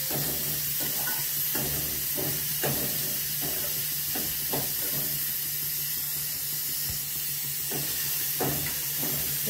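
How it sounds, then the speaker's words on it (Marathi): Onion, chili and tomato fry in hot oil with garlic in a pan for a fish rice dish. A steady close sizzle and hiss runs throughout, broken by repeated scraping stirs. "आता कांदा टाकणार, मिरची, टोमॅटो हे सगळं चांगलं परतून घ्यायचं."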